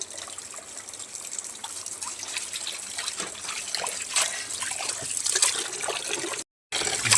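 Water trickling and splashing while cut fish pieces are rinsed at home, a steady wet dribble throughout, close and moderately loud, with a brief dropout near the end.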